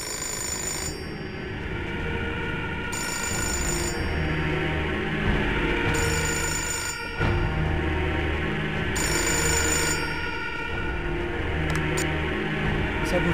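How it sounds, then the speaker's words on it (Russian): A telephone rings in the video game Fahrenheit: Indigo Prophecy, with four evenly spaced rings separated by pauses over continuous background music. "нужно ответить на телефонный звонок."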